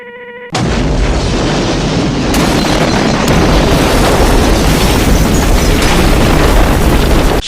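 A huge, loud explosion bursts in abruptly and keeps roaring as a dense, sustained rumbling blast that fills the whole stretch, with no talk over it.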